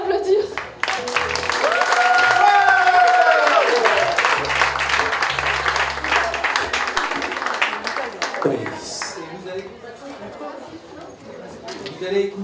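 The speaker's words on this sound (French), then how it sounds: "Merci de les applaudir." A concert audience applauds young performers, with sustained clapping rising over the first few seconds and continuing under crowd chatter and speech before tapering off.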